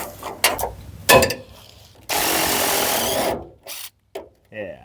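A DeWalt power tool, likely an impact driver, whirs through rusted-out fender bolts on a 1982 Ford F150, with a sustained loud buzz after scattered clanks and knocks, and short bursts after it.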